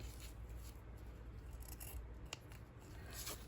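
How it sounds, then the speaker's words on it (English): Scissors snip through fabric with soft, quiet rasping cuts, one sharper snip standing out near the end, close by and without talk. "these are not good scissors for material"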